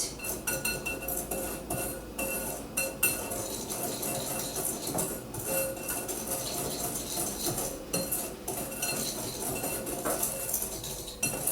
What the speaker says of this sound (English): So whisk that all together, make sure it's all combined